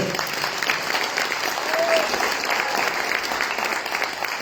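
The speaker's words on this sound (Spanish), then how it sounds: "les pido un fuerte aplauso para el maestro" An audience at a book presentation at a university in El Alto, Bolivia, applauds the author, a full, continuous round of clapping that holds steady for over four seconds, with a brief voice faintly audible within it.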